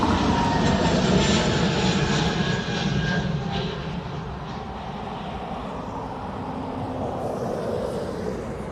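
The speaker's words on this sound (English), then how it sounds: "which is actually an Aer Lingus off to London Heathrow" An Aer Lingus airliner bound for London Heathrow takes off at Dublin Airport, its jet engines a loud, sustained roar that slowly fades as it climbs away.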